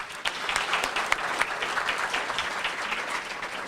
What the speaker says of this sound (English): And I think we should have a special round of applause for Kylie, your assistant.